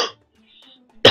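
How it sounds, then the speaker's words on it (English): A single cough bursts out at the end after a moment of near silence, sharp and close, with a faint trailing sound of the previous cough at the start. "You'll have to excuse me if I'm coughing through this video."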